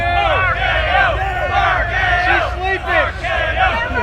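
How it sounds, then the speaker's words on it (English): Wrestling crowd at a PWA Born To Be Wild show at Leesburg Bike Fest roaring in pandemonium after a finishing move, a dense, sustained wall of cheers and shouts with excited voices rising throughout. "The crowd here in pandemonium over the RK Nova"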